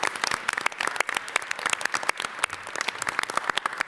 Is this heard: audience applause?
yes